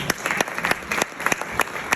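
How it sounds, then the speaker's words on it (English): A room full of women at an International Women's Day event claps for themselves, a close, lively patter of hands with sharp individual claps standing out. "Can we give ourselves a round of applause?"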